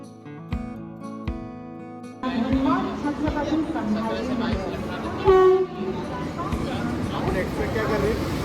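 A Vande Bharat express train rumbles past with a loud horn blast midway, the rail noise continuous under people chatting nearby.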